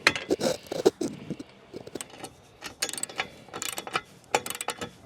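Wrench tightening urethane-thread lock bolts on a Cyclone Rack lawn vacuum chassis, a series of close metallic ratcheting clicks and clinks arriving in short irregular bursts.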